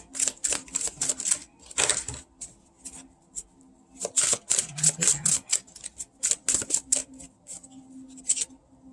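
Tarot cards are shuffled in quick riffling bursts, crisp and close, with short pauses between rounds.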